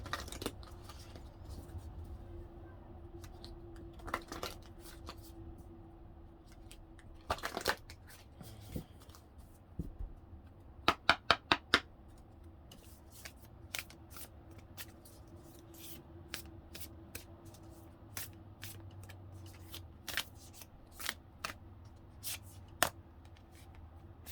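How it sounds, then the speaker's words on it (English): Tarot cards being shuffled close up, soft riffling and sliding with scattered sharp snaps and clicks, quiet with irregular bursts over a long stretch. "we'll shuffle again"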